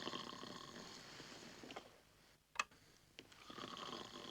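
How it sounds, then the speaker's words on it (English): A man snores in bed in a 1972 film scene, a couple of soft rasping breaths with a sharp snort in the middle, over a faint background hum. "Arthur, you're snoring."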